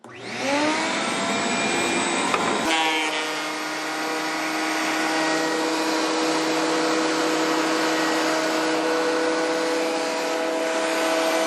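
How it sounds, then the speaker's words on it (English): A vacuum cleaner starts up with a rising whine, briefly shifts pitch, then runs loudly and steadily with a droning motor hum, in a workshop while making an electric guitar neck. "now let's start her up. I do have her plugged in. Everything's ready to go. Vacuum cleaner on."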